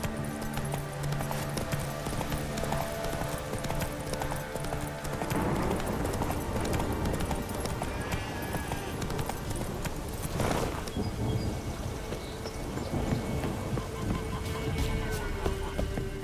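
Hooves from a galloping horse in The Witcher 3 game beat in a quick, continuous clip-clop rhythm, mixed with ambient game sound and a faint voice.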